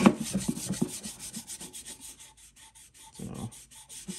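Hand sanding with 120 grit sandpaper on a custom Browning Auto 5 shotgun, a close, rhythmic back-and-forth rubbing in steady even strokes with no talk.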